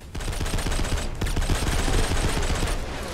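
Rapid automatic gunfire in a video game, a dense stream of loud close shots with one brief pause before the burst resumes, no talking over it.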